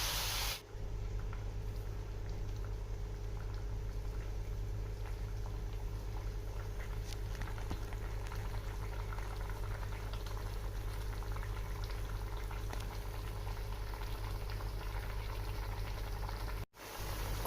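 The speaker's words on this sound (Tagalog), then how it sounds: "Kumukulo na po yung ating pork." A pot of pork for Bicol Express bubbles at a steady rolling boil in water, a constant close hiss and gurgle with a brief pause near the start and another near the end.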